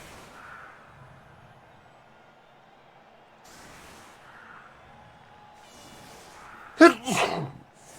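A single sharp, loud sneeze bursts out near the end, following several seconds of quiet background murmur and faint vehicle-like hum.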